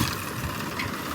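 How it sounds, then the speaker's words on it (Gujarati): Diesel engines of a JCB excavator and tractors idle steadily at close range, a continuous low rumble with slight vibration and no voices, loading farmyard manure on a farm. "ટ્રેક્ટર તો ગાઈસ આવી ગયા છે અને જેસીબી પણ આવી ગઈ છે"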